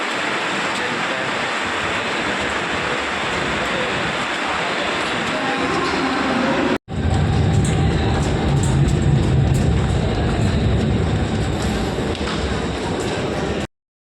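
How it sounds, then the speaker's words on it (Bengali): A train arriving at a crowded station: a loud, continuous roaring rumble and rush that briefly cuts out midway, then resumes heavier with deep low rumbling. "ট্রেনের আওয়াজ ট্রেন চলে আসছে"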